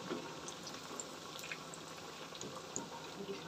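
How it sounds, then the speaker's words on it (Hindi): Chana dal vadas fry in hot oil, a soft, continuous bubbling sizzle with small crackles scattered through it, low in level and steady, with no one talking. "चलिए दोनों तरफ से इनको अच्छे से गोल्डन फ्राई कर लेते हैं।"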